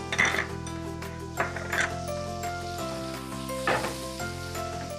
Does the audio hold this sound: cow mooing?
no